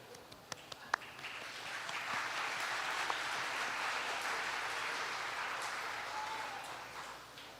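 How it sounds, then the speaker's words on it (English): An audience at the Choctaw Nation Princess Pageant applauds the pageant royalty: a few scattered claps, then sustained, even applause heard from a distance and fairly faint. "accept applause as long as you want to give it to them"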